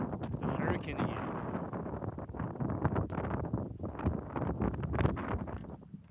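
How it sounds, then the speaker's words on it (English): Strong wind blowing across an interior British Columbia lake during a fishing outing, a steady loud roar buffeting the microphone throughout. "So look at this wind."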